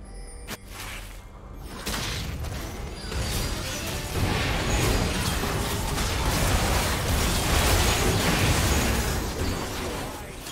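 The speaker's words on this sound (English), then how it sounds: "His turret has been destroyed." A turret is destroyed in League of Legends: a crashing, crumbling game effect with mechanical clatter and pops, building into a dense sustained rumble of debris and game sounds.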